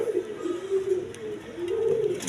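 Racing pigeons, tagged males and females kept for sale, coo steadily in a low, rolling murmur close by, several birds overlapping without pause.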